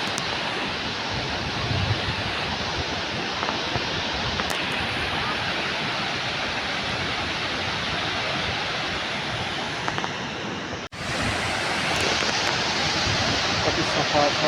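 A small river rushes steadily near the Lalupate hydropower plant, a continuous broadband roar of flowing water that fills the scene close by, with only a brief dip before the flow resumes.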